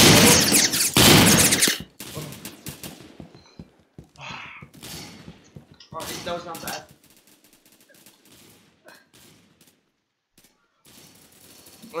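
Gunfire in the shooter game Phantom Forces opens with a loud, dense automatic burst, followed by scattered shots and thuds, with a voice heard briefly between them.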